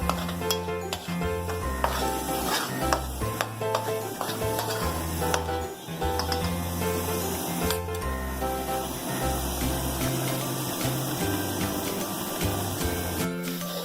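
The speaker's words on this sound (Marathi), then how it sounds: "कांदा आपल्याला अगदी ब्राऊन कलरचा होईपर्यंत परतवायचा आहे" Onion paste sautéing in a pan until brown for street-style chole bhature, a steady close sizzle with stirring scrapes and clicks throughout.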